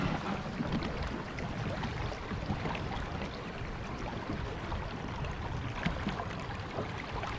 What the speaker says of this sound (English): water going past the boat.